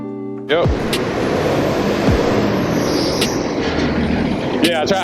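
A city bus rumbles steadily close by on the street, a dense engine and road roar that holds for several seconds, with a sharp air-brake hiss near the end and voices briefly at the start and end.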